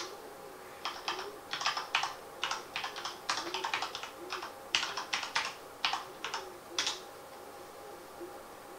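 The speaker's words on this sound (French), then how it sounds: "On tape son pseudo qui est donc Sébastien Loeb." Typing a username on a computer keyboard to search for a friend on Steam: crisp, close key clicks in quick uneven bursts for about six seconds, then quiet.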